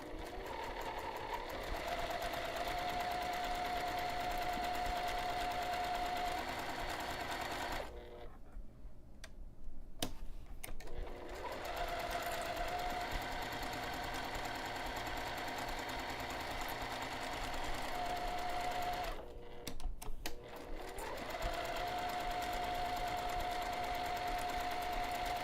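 A sewing machine fitted with a Teflon foot runs in long steady bursts of fast whirring stitches, stopping twice for short pauses with clicks and handling noises before starting again.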